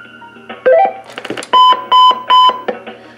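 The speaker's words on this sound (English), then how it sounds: "Beep 3 times, indicating 3 times 50 milliseconds or 150 millisecond tone duration." Three crisp electronic beeps in steady succession from a pulse-dial-to-DTMF converter for a rotary dial telephone, preceded by a few brief tones, loud and close.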